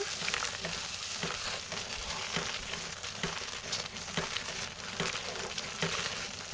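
Soap batter being stirred by hand in a bowl as ingredients are mixed into a homemade first-batch soap, a steady wet swishing and sloshing with soft scraping knocks, close and continuous, no talk.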